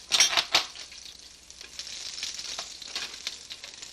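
Onion going into a hot frying pan bursts into a loud crackling sizzle with a couple of sharp spikes at the start, then settles into a steady spattering fry.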